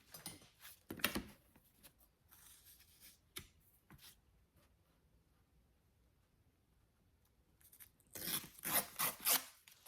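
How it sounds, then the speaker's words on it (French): Lined paper pages are torn at close range, giving short rough ripping bursts near the start and a longer, louder run of tearing at the end, with quiet handling noise between. "Donc, on va déchirer à ce niveau-là."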